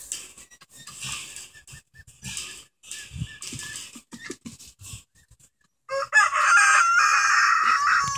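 A rooster crows loudly and close by, a long strained call following a stretch of softer clucking and scratchy rustling.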